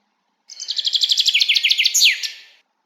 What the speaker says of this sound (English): a bird sound